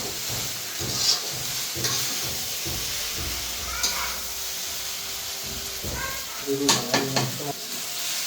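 Noodles sizzle and hiss as they are stir-fried, with scraping and stirring clatter at irregular intervals and a few faint voices in the background.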